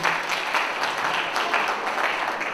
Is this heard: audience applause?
yes